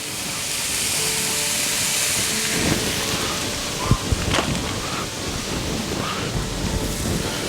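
Southern style hash browns sizzle on a hot griddle in a steady broadband hiss, with a few sharp clicks and scrapes near the middle.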